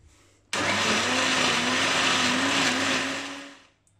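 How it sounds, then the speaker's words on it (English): Blender whizzing ceviche broth: a sudden loud motor whine with a steady pitched hum that holds for about three seconds, then winds down as the motor stops, with no talk. "Also in the mixer. And you just give it a whiz so you can extract the juice after."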